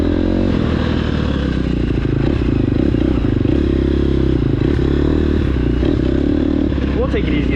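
KTM 250SX-F four-stroke motocross bike with no radiator fans riding at low speed on trails, a steady loud engine drone with some clatter and rattling, voices talking over it.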